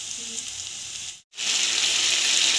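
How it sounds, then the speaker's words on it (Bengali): Chicken sizzles steadily as it is sautéed in a pan, a close, bright frying hiss with a brief stir-like break in the middle, no talking over it. "এদিকে আমি এখন চিকেনটা কষাচ্ছি"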